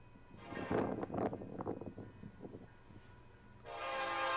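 A distant freight train horn from an eastbound train approaching Belle Plaine, sounding two separate blasts, one near the start and one at the end, with a low rumbling background between them.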